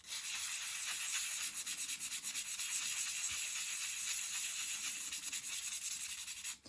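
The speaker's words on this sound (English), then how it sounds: "use the 500 grade sandpaper and just use a very gentle circular motion" Fine 500 grade sandpaper rubbed in gentle circles over the painted finish of a 1/12th scale dolls house bookcase, a steady close, soft hissing scrape with a quick pulsing rhythm, alone without talk.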